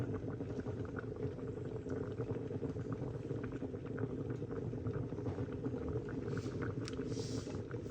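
A pot of Caribbean pea soup simmers on the stove, giving a steady low bubbling and gurgling that stays even and fairly quiet throughout, with no talk.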